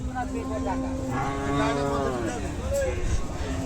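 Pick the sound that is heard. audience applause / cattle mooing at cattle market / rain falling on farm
cattle mooing at cattle market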